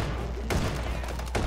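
Two sharp, loud shotgun blasts in the Hot Dogs, Horseshoes & Hand Grenades VR game, spaced about a second apart over a steady background rumble.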